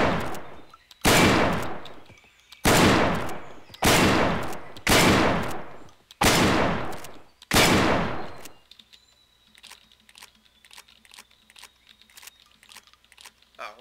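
Shotgun blasts in the video game Receiver: six loud, sharp shots roughly a second apart, each with a long ringing tail, followed by quieter mechanical clicks and clatter.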